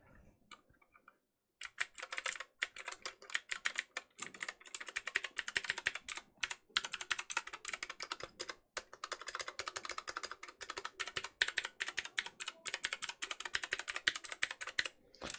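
Rapid typing clatters on a handmade 40% keyboard, close and crisp keystrokes in quick bursts with a couple of brief pauses after a quiet start.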